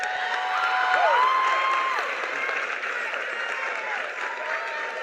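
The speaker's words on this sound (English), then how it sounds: "please give them a round of applause" Audience at a Plainfield Public Schools graduation ceremony applauds steadily as students walk up, a dense, sustained clapping wash with a few faint tonal sweeps over it.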